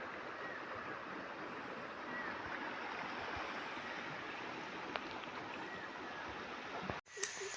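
Water from a nearby stream flows steadily as an even, rushing hiss that lasts throughout, then breaks off abruptly near the end.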